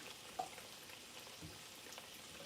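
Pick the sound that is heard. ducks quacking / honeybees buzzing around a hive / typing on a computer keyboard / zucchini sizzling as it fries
zucchini sizzling as it fries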